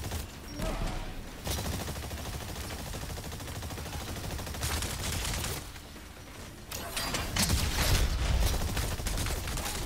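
Exosuit weapons firing in the video game Exoprimal against dinosaurs, dense sustained bursts of loud gunfire with mechanical clatter, broken by short lulls.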